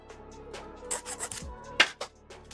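A nub on a small plastic part from a 1/144 HG Bandai Gundam model kit is polished by hand, making a series of short, quiet rasping rubs close by.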